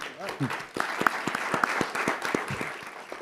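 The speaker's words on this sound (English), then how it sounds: "Give our candidates a round of applause." An audience at a DC mayoral candidates forum claps in a sustained burst of applause, with a few louder individual claps and some voices mixed in.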